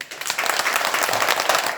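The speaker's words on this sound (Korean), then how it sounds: "자, 그래서 박수 한번 주세요." Audience applause during a special Buddhist sermon at a temple memorial and enshrinement ceremony, a steady dense wash of many clapping hands lasting the whole short moment, fairly close and even in loudness.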